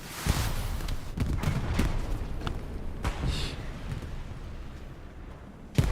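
Gunfire in a World War II–style Allies versus Axis multiplayer battle, fighting on a bridge: dense, continuous crackling volleys with several sharp nearby shots standing out, and a loud close blast at the very end.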